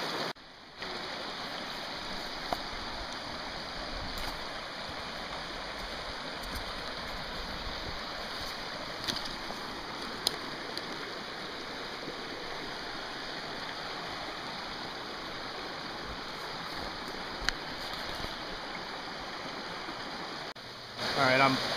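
A Pennsylvania trout creek rushes and burbles in a steady, broadband flow for the whole stretch, close and even, with occasional small splashes or clicks and no one talking.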